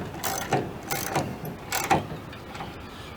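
A hinge pin removal tool for a Volkswagen Beetle door hinge is turned with a jacking bolt, making repeated close ratcheting clicks and metallic creaks in an uneven rhythm, with no voices.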